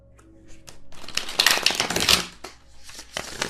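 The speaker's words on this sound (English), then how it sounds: "Do another shuffle real quick." Tarot cards being shuffled, a dense rapid riffling and flicking burst near the microphone that swells in the middle and trails off into lighter taps.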